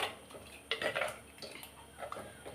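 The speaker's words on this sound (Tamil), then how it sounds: "அதனால் நம்ம கிளறி விட்டுக்கிட்டே இருக்கணும்" A spoon scrapes and clinks against a pot as bitter gourd sambar with thickening lentils is stirred, making a few irregular close metallic knocks and scrapes.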